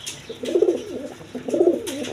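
Lahori pigeons, a breeding pair at a pigeon sale, give two soft, rolling coos in a row, close and clear, with no talking.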